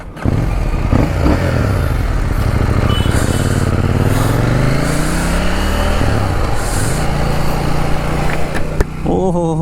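A KTM Duke 790 motorcycle riding downhill on a road in Kokrajhar, its engine note rising and falling through gear changes, loud and close with wind rush throughout, and a brief burst of noise near the end.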